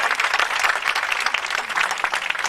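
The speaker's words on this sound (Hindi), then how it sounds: "इन दोनों के लिए भी जोरदार ताली बजाइए।" A seated audience bursting into loud, sustained applause, many hands clapping in a dense, fluttering patter with slight swells, close and lively, with no speech over it.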